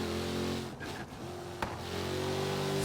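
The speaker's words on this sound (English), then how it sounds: "Sounds amazing though, man. Fully built, supercharged V8." The supercharged V8 of a fully built Ford Raptor truck in Forza Horizon 3 drones loudly and steadily, holding a deep, constant engine tone with a rising whine toward the end and no talking.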